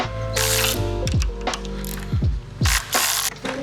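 A ratchet wrench clicks rapidly while loosening bolts on a blown-up BMW engine, bursts of close, loud pawl ratcheting broken by sharp metallic clunks and short pauses.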